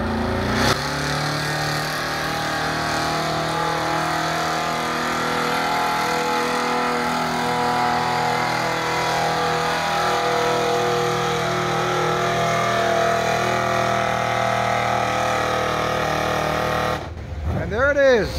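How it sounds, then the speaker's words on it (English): A heavily modified engine at a truck pull revs long and hard, a loud sustained roar holding for about seventeen seconds before dropping away. Voices of the crowd talk over it. "If you've never been to a truck pull, you're fixing to see what happens"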